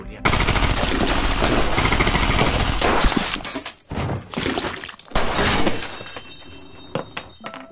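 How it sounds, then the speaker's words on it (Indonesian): Rapid machine-gun fire in a film scene as a hallucinating man shoots wildly at another, loud continuous bursts with breaking glass, then shorter volleys and scattered shots trailing off. "tiba-tiba saja Alex berhalusinasi dan menembaki Roger dengan membabi buta"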